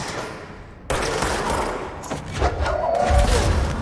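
Rapid bursts of gunfire in the video game Control, loud, close volleys with thuds and booms that build in intensity without pause.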